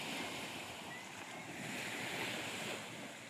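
Waves surging and washing onto a beach in a continuous broad roar, with wind buffeting the microphone and no one talking.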